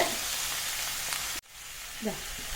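Drumstick, ash gourd, raw plantain and carrot sautéing in oil for Onam avial, a steady close sizzle that cuts out abruptly midway then resumes more quietly with a light stir.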